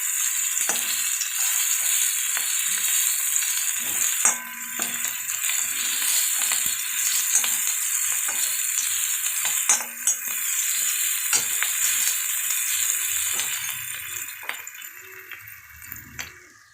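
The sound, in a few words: onions frying for bitter gourd curry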